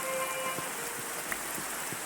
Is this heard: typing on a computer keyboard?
no